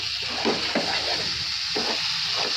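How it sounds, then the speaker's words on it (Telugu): Eggplant sizzles in a pan as chili powder is stirred through it, a constant frying hiss with soft, repeated scraping strokes of the spoon. "కారాన్ని అయితే యాడ్ చేసుకుని ఒకసారి మిక్స్ చేసేసుకుందాం."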